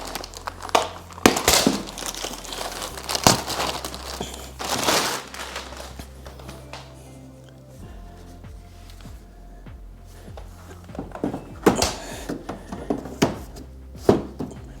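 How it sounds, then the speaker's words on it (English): Plastic packaging is peeled and crinkled off the pre-filters of a Lifubide Y1000 air purifier, giving close, loud bursts of crackling and rustling that come and go with quieter gaps between them. "you want to remove the packaging before you turn it on"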